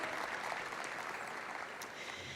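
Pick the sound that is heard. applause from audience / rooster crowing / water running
applause from audience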